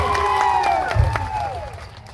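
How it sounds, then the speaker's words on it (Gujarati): A rally crowd applauds for the police, clapping and cheering blended under a prominent amplified speaking voice, with a low thump partway through. "પોલીસ માટે એકવાર જોરદાર તાળીઓ પાડી લો"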